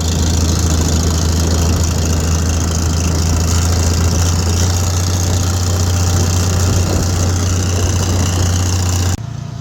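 An International Harvester IH 806 tractor engine running without its turbo and lacking a muffler drones loudly and steadily with a deep low throb and rough mechanical clatter, close by, cutting off at the end.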